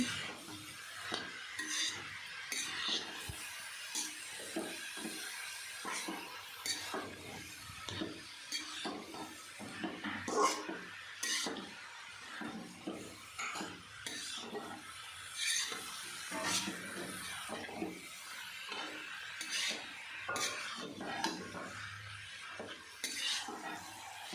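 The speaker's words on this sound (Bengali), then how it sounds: "সময় নিয়ে খুব ভালোভাবে বাঁধাকপি আর আলু আর মশলাগুলোকে আমি ভালোভাবে মিশিয়ে নিচ্ছি।" Cabbage, potato and spices stirred together in a pan for a fish-head cabbage dish, with repeated scraping and clinking of a metal spoon against the pan over a light sizzle, close and continuous.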